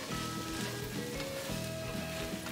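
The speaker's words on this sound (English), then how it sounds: "Stir that up so it's nicely combined." Walnuts are stirred into a sizzling caramelized onion and bacon mixture in a pan, a soft steady sizzle with light scraping movements heard up close.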